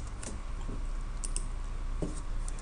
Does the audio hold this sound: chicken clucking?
no